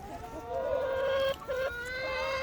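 Chickens of mixed ages from merged flocks cluck and call nearby while eating snow outdoors, with a drawn-out close call broken by a brief pause.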